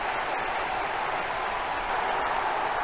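A crowd in the AFL Evolution football video game gives a sustained roar of cheering and clapping at an even level, heard alone without commentary.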